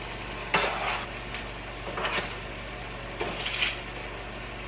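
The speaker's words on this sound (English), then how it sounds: "I'm going to add my cauliflower into the pot" Cauliflower pieces tumble into a cooking pot for a roasted cauliflower soup, giving a few clattering, rustling bursts over a steady background hum; there is no speech.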